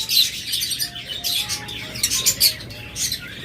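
Pet lovebirds, budgerigars, Java sparrows and cockatiels kept in cages for sale chirp and tweet continuously, a busy overlapping flock of high calls close by with no talking.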